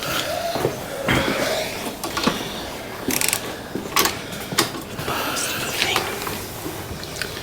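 Ratchet slackening a nut on a Yamaha XVS650 motorcycle, heard as close irregular clicking and metallic clunks in a workshop, with faint background noise and no clear talk.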